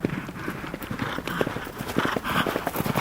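Horse hooves clip-clop in a steady, quick rhythm during World War 1 style cavalry riding practice, fairly close and continuous with no voices.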